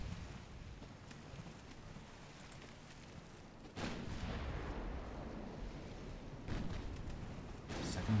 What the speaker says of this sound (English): Second gun, fire.